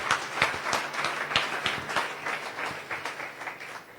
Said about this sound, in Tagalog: Palakpak, mga kapatid!